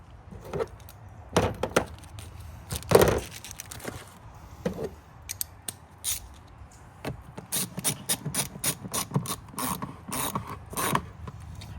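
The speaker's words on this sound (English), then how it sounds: "I like to use a ratchet on these because some people like to use a little impact and then they end up stripping out the worm clamp." A hand ratchet tightens worm clamps on a Chevy Silverado, giving sharp, irregular clicking strokes up close, with pauses between bursts and no speech.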